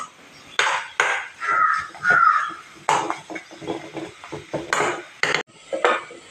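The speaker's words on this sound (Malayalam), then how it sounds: "നന്നായിട്ട് ഇങ്ങനെ ഇളക്കുക. നല്ലതുപോലെ ഇങ്ങനെ മിക്സാക്കി കൊടുക്കുക." Metal spoon scraping and clattering against a pan while stirring a drumstick flower stir-fry, irregular knocks and scrapes close by.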